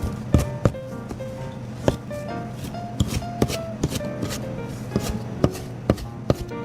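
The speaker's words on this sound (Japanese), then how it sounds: "粗めのみじん切りにしてください。" A kitchen knife coarsely chops shiso leaves on a cutting board, loud, close, irregular thuds repeating quickly over a soft rustle.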